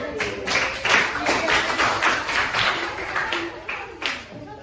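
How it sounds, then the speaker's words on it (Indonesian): Hand clapping from a classroom audience after a group presentation in a teacher-training session, many quick irregular claps spread across the whole span with some chatter and voices mixed underneath. "Tepuk tangannya mana?"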